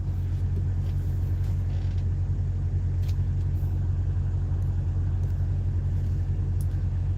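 A constant low, heavy rumble of idling truck engines fills a busy truck stop, with faint brief hisses breaking through now and then over the steady drone.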